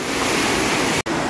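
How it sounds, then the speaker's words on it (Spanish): A swollen stream rushes steadily during Hurricane Hilary on Isla de Cedros, a loud, continuous broadband roar that briefly cuts out near the end. "sigue igual el arroyo, un poquito más ancho, más crecido"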